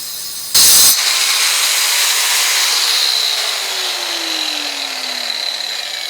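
A diamond saw blade grinds through a ladder pattern damascus steel billet with a loud, close, steady whine, after a brief sharp burst at the start, and the pitch slowly sinks as the cut goes on.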